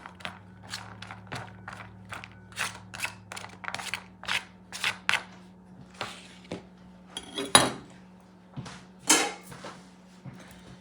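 Olives and onions chopped with a knife on a board for a Puerto Rican octopus salad, a series of sharp, close, evenly paced chopping taps with short pauses between bursts.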